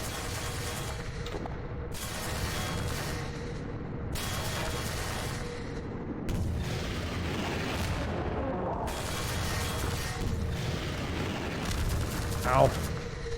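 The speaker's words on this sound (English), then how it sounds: "Oh, missiles." Missiles firing and exploding in Half-Life 2: Episode One, a run of heavy booms and rumbling blasts that continue through the clip, with one sharper burst near the end, under a speaking voice.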